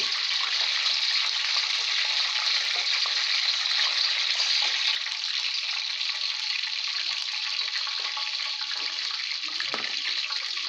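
Onions frying all at once in a pan in a home kitchen, a steady, dense hiss of sizzling that holds evenly throughout at close range, with faint clinks and no talking.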